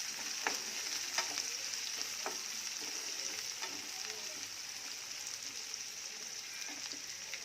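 Ingredients sautéing in a pan for tempered rice give a steady, close crackling sizzle for the whole stretch, with a few sharper spatters and scrapes of stirring scattered through it.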